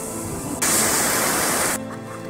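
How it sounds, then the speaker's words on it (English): Waterfall on the Salkantay trek toward Machu Picchu in Peru, heard as a sudden loud, hissing rush of falling water lasting about a second over a softer background. "Waterfalls."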